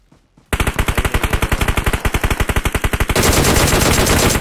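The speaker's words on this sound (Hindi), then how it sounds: "उधर से आ रही है फायर" Automatic weapon fire in the mobile battle-royale game PUBG Mobile, a loud, close burst of rapid evenly spaced shots lasting about three seconds and then merging into a sustained roar, with no talk over it.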